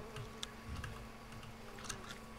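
Flies buzzing in the jungle survival game Green Hell: a faint, low, steady insect drone with a few brief buzzing passes and soft ticks over a quiet background hum.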